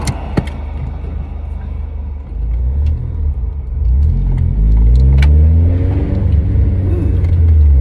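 A 2007 Honda Civic Si engine idles with a rough, steady rumble that grows heavier and louder partway through, a rattling, tractor-like clatter from a possible valve fault, close and continuous.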